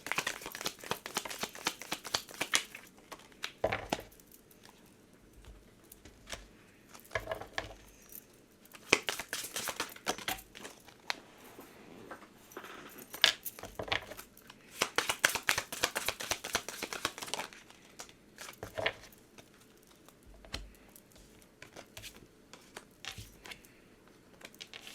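Tarot and oracle cards being handled and shuffled, with soft papery riffles, slides and light taps coming in irregular bursts and lulls, close and fairly quiet, with no talking.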